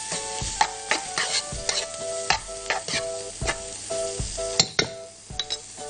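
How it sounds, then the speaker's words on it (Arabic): Rice being stirred in a granite-coated pot with onion, cumin and turmeric, likely with a silicone spoon: repeated scraping strokes with a soft sizzle running underneath, close up and steady, with no voices. "واقوم اقلب بقى كده كويس."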